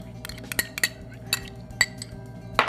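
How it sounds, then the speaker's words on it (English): A spoon clinks against a bowl while mixing thawed frozen fruit and its juice into plain yogurt, giving a handful of sharp, bright taps at uneven intervals over a faint background hum, no voices. "which I then just mix into my plain yogurt"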